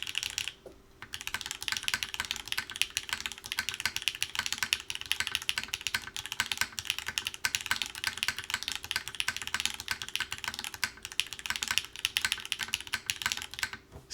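Rapid continuous typing on a Zensai 65 wooden-cased keyboard with a palm plate, latte switches and GMK keycaps, producing dense, muted, thocky keystrokes close up, with no talking.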